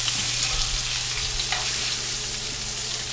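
Lamb chops searing in a cast iron pan give a steady, close, loud sizzle with a continuous broadband crackle and no breaks or voices.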